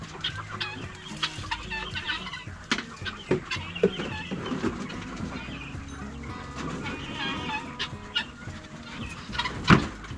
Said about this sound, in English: Chickens decided to go here and eat quail food.